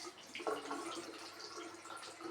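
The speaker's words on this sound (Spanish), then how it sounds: "enciende el grifo. Vamos a primero a enjuagarla" Water runs from a kitchen tap while a strawberry is rinsed under it, a steady close hiss with light splashing and no voices.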